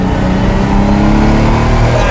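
Lamborghini Miura engine revving loudly and close, a continuous rich mechanical roar held steady throughout with no pauses.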